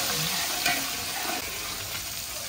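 Garlic and onion sautéing in a pan, a continuous close hiss of frying with a faint stir or two, steady and without talk.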